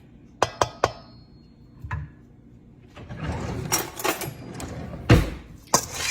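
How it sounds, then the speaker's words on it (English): Potatoes being tossed with Italian seasoning and minced garlic in a bowl, giving a few sharp clinks early on, then a stretch of shuffling, scraping mixing noise with a couple of louder knocks against the bowl. "And you just want to toss all this together."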